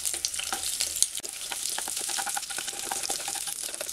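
An egg scrambled in hot oil for egg noodles fries with a dense, crackling sizzle, stirred throughout with quick scraping sounds close by.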